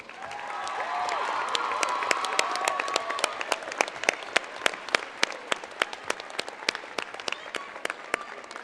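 An audience at the Mr. Parkland 2010 pageant applauds the contestants, a steady wash of many hands clapping for several seconds with sharp individual claps standing out, moderately distant and even in level.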